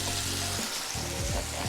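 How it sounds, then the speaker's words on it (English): Steak searing in a frying pan with pan-fried potatoes and garlic butter mushrooms nearby, a steady close sizzle and crackle that dips briefly then resumes, with no talking. "You hear the sear on that one?"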